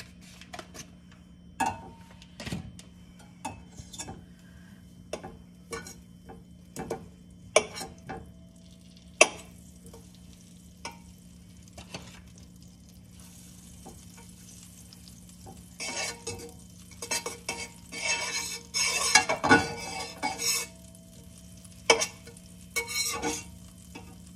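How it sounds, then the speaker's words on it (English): Butter melts in a skillet with sparse, scattered crackles and clicks at first, then a denser burst of sizzling and spattering near the end, all fairly quiet. "Add some butter to our skillet."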